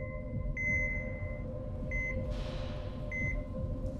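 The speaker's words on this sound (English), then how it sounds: "I woke up hearing beeping sounds." Steady electronic beeping repeats in a quiet room: thin high tones sound in short bursts at irregular intervals over a low constant hum, with a brief hiss midway.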